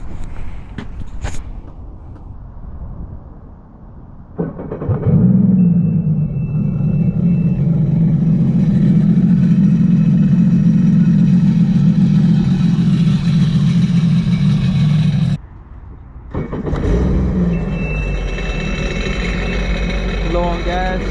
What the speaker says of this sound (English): I want to give you guys a little sound bite on what it sounds like with the free flow exhaust